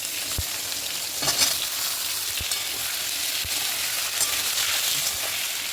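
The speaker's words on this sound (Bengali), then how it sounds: "আমি এই ফোড়নের তেলের মধ্যে আলুগুলো দিয়ে নেবো, নিয়ে আলুটা ভালো করে লাল করে ভেজে নেবো" Potatoes frying in spiced tempered oil, a steady close sizzle and crackle with occasional sharp clicks of a spatula against the pan, no talking.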